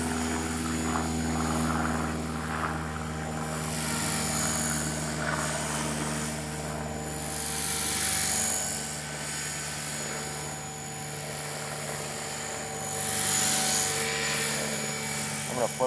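Blade 300X RC helicopter hovering and circling in normal mode, a steady high-pitched rotor and motor whine with rising and falling swells as it moves, close and loud throughout.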